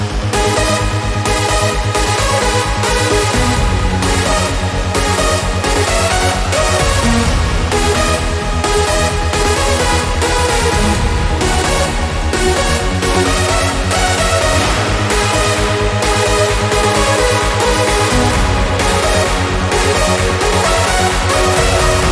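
Big room EDM climax plays loud and dense, with pounding four-on-the-floor kicks, bright layered synth leads and a few brief drops in energy, no voices.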